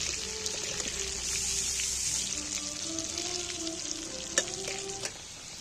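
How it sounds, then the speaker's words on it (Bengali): Potatoes coated with turmeric and salt fry in hot oil, giving a bright, steady sizzle close by, broken by soft stirring scrapes and a couple of sharper knocks near the end. "এবার আমি আলুগুলোকে একটু তেলের মধ্যে নেড়ে চেড়ে ভেজে নেবো ভালো করে।"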